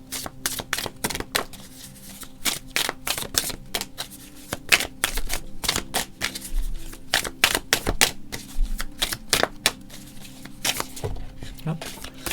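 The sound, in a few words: shuffling tarot cards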